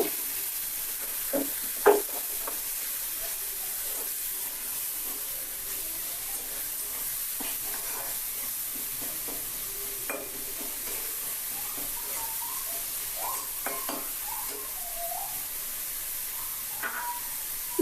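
Spices and tomato sizzle in a pan while being sautéed for loitta shutki bhuna, with turmeric, chilli powder, salt and a little water, giving a steady soft hiss with occasional stirring scrapes and clinks.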